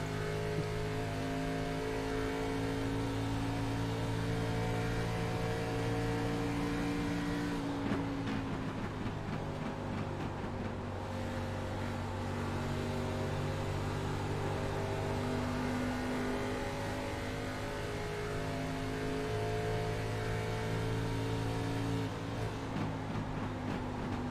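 Race car engine heard from the onboard camera of the No. 37 machine in a K&N Series racing video game at Kentucky, a steady loud drone with shifting tones that dips briefly as the car rounds the turns, with no talk.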